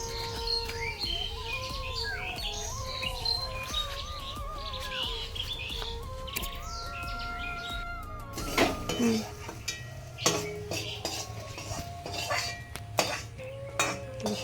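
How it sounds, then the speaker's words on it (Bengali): A metal kadai clatters during home Manasa puja preparations, irregular knocks and clanks growing louder in the second half, after bird chirps and thin whistling tones in the background. "কড়াই আওয়াজ হয় তো"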